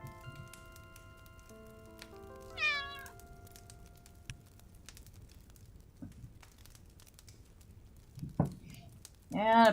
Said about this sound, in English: Oh, you can mute it so you don't have to listen to it meow.